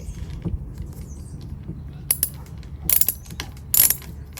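Parts of an outdoor cat feeder being screwed together, a few short ratcheting clicks and scrapes in sparse bursts against a quiet background.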